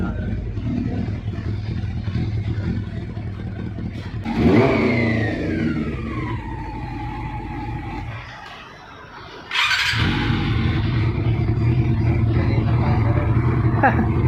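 A Honda CB400 motorcycle with a carbon fiber muffler idles steadily, then revs up sharply and falls back. After a brief dip the engine surges again and holds a loud, throaty idle, with people talking nearby.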